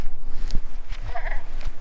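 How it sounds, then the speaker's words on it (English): Goats bleating near a greenhouse at springtime, a short close bleat amid light rustling and footsteps, brief and fairly loud. "let's go see Reba, see our goats, see how everybody's looking"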